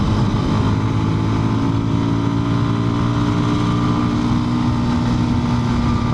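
A Voge 300 Rally motorcycle engine holds steady at about 6000 rpm while cruising at 60 mph in sixth gear, giving a loud, continuous droning hum mixed with wind roar and no speech.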